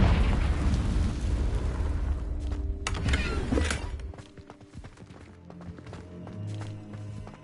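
Fire and blasting spells in the Hogwarts Legacy video game go off as a series of loud booming bursts and crackles. The blasts settle into quieter clattering game sounds toward the end.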